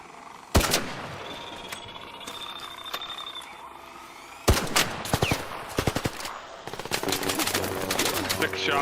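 Gunfire in the video game ARC Raiders: one loud shot, a pause with faint ambient birdsong, then a sharp shot followed by bursts of rapid fire that grow into near-continuous shooting, loud and close.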